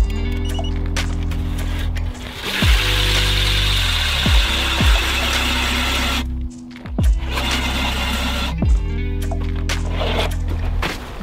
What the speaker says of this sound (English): Now I'm gonna probably drill the hole.